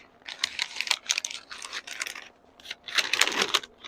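Butcher paper crinkles and rustles while barbecued meat is wrapped up, with bursts of close, crisp crackling separated by a short lull.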